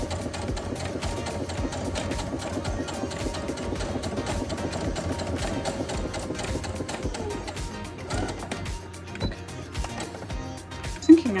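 A sewing machine top stitching a zippered pouch, a steady fast mechanical whirring and ticking that runs continuously, then slows and stops near the end, close and clear.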